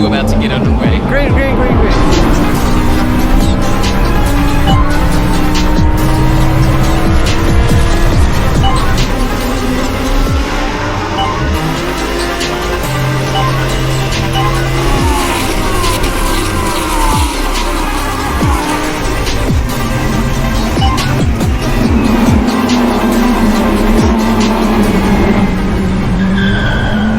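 Race cars circle a track during a race, engines roaring loudly while tires squeal and skid in long wavering tones, with a commentator talking over the din throughout.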